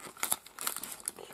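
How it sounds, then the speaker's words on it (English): Paper free gifts being ripped and crinkled off the cover of a Pokémon magazine, a run of close, crisp tearing and rustling bursts with no talk. "You probably end up ripping, yep, the magazine"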